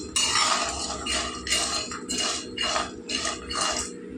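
Seeds, about a hundred grams, dry-roasting in a pan while a spoon scrapes and stirs them in repeated bursts of rustling, rattling strokes, close and clear over a low steady hum.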